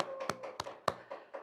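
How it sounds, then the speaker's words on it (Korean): A few slow, separate claps ring out at a lecture, about five sharp hits spaced unevenly and fairly faint, with a quiet room between them. "박수"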